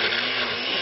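A blender runs at a steady, loud whir, a dense continuous motor roar with no pauses, near and alone with no voices.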